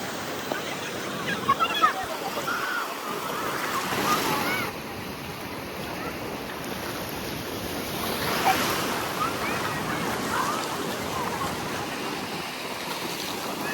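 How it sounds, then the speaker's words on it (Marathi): Big sea waves breaking at Malvan beach on the Konkan coast, a steady roar of surf with wind buffeting the microphone and swells rising and falling over about fourteen seconds, with people faintly audible in the background. "लाटा जाम वाढल्या,"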